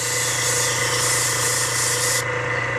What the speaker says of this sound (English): And then I'll just spray some thinner, full blast, right into my paper towel.